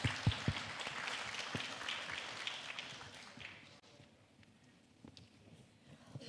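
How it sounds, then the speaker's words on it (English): Applause from a conference audience for the speakers at an academic plenary session, faint crowd clapping that slowly fades out over a few seconds. "please give the biggest applause to our distinguished speakers."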